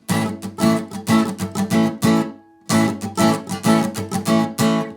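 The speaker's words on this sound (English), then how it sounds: "Let's now try a more complicated semiquaver strumming pattern with some mutes in." Rhythmic guitar strumming in quick semiquaver patterns, with percussive muted strums between chords, loud and close, pausing briefly midway before resuming.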